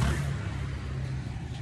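A Yamaha NMAX 125 motor scooter goes by close at hand, its engine a steady low drone with a constant hum that fades only slightly over a moment, with no voices over it.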